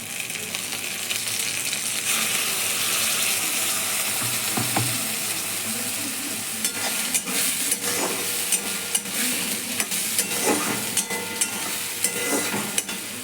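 Masala paste sizzles and fries in a pan with browned onions, a steady loud crackle broken by scraping stirs and occasional clinks of a utensil against the pan, with no talking.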